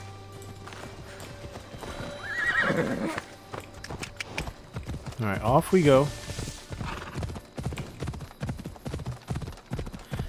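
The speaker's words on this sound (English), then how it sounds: "We'll call our horse." A horse in the Assassin's Creed Odyssey video game gives a loud whinny midway, with a steady clip-clop of galloping hooves running through the rest, while someone talks over it.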